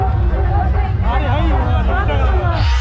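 A dense crowd at a Mahaviri Akhada fair in Hardobada, Siwan district, fills the air with a loud, continuous hubbub of overlapping voices and chatter, close and unbroken throughout.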